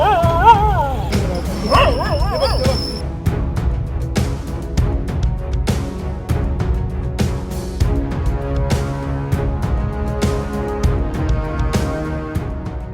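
Stray dogs bark in a street in Kankavli, with loud, repeated barks and yips overlapping in an irregular rhythm close by, plus a few whimpers among them.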